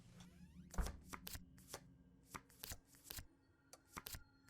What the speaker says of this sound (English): Shuffle the deck until its images shine with light.